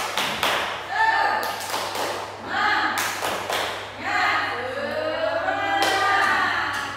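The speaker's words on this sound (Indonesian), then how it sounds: "kita tepuk semangat dulu" A classroom of pupils performs the tepuk semangat clapping chant, with several rhythmic rounds of group claps alternating with chanted voices, fairly close and lively.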